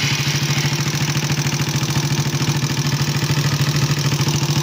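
Suzuki Raider 150 motorcycle engine idling with a fast, steady ticking from a loose valve, a continuous close mechanical clatter riding over the low engine hum with no talking.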